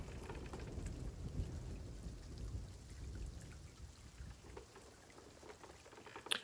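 A thunderstorm in the pirate game Sea of Thieves: steady heavy rain hisses and patters with a low rumbling wash beneath it, continuous and fairly distant, with no voices.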